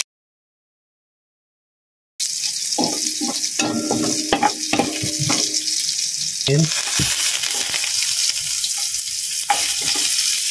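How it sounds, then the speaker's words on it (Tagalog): After a couple of seconds of silence, onion, garlic and ginger hit a hot pan and sizzle loudly, with bursts of stirring and scraping over the steady frying for pork bachoy. "para magisa natin yung ating sibuyas, bawang at saka luya"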